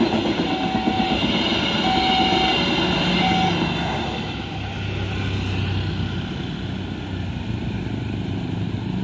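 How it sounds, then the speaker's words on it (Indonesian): A train rolls through a railway level crossing at night, a broad steady rumble of rail cars with clickety-clack under a few short horn-like tones, loud and continuous throughout. "Ajar bos, kereta terakhir."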